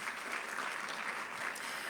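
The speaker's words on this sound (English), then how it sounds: "Another round of applause for Mr. Kibonyiwirisa, please." A conference audience at a Botswana expo applauds, a faint, steady patter of many hands heard at a distance.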